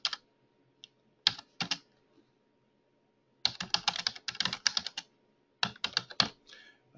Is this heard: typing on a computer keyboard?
yes